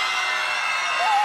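A loud crowd cheering and screaming at an outdoor Christmas lights switch-on, a sustained dense roar of voices with whoops rising above it, close and continuous.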